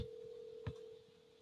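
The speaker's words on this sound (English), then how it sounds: "So it's ringing." A telephone call rings out as a steady, faint ringback tone that holds throughout, with a brief thump partway through.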